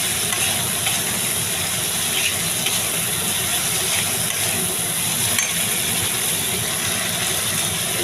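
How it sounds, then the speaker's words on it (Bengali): Spices fry in oil while being stirred for a curd soybean curry, a loud, constant close-up sizzle with a steady hiss and low rumble running throughout, no voices. "দেখুন, খুব ভালো করে নাড়াচাড়া করতে করতে মশলা থেকে তেল ছেড়ে দিয়েছে।"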